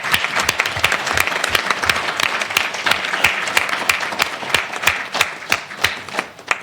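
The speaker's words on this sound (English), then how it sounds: "I would like us to give them, those present and those outside this room, warmest applause for recognition of their efforts" Audience applause at a formal event, dense clapping from many hands that holds steady and then thins into scattered, separate claps toward the end, with no talk over it.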